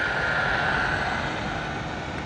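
PXToys Enoze 300E Hyena brushless mini RC basher car driven at full throttle, giving a loud, steady, high-pitched motor whine that holds throughout and fades slightly toward the end.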